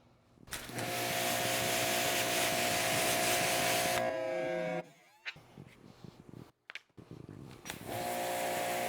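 Continuous loud scrubbing or rotary rubbing noise as car wheels are cleaned with all-purpose cleaner, lasting several seconds before stopping, followed by sparse intermittent scrapes and handling sounds.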